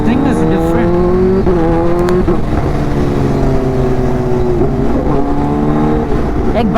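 Kawasaki Ninja H2 supercharged motorcycle engine held at a steady loud rev with pitch swells and dips, close up and continuous, with a voice talking over it.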